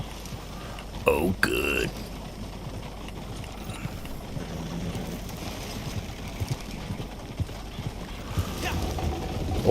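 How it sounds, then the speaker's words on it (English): Horse hooves clip-clop in the Red Dead Online video game, a faint uneven trotting under ambient game sound, with a brief louder burst early on and a short spoken remark. "Is that another horse? Oh, it's a player horse."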